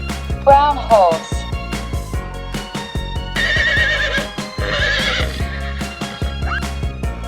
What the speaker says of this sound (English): Brown horse.